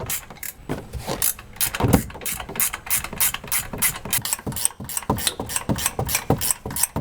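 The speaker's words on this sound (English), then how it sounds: "So we'll get our 16 up here on the top mount nuts and get those tightened." A ratchet with a 16mm socket tightening the top mount nuts on a RAM TRX truck's front suspension, a fast series of sharp clicking pawl strokes, close and fairly loud.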